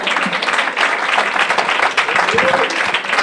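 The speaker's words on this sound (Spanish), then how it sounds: "Denle un aplauso a Jesús." A church congregation breaks into applause, brief and dense, with loud overlapping clapping from many hands close by and a few voices mixed in.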